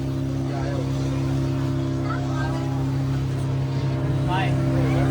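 A motorboat cruising at sea off Goa, its engine a steady, loud drone with strong low hums running throughout, and people talking over it.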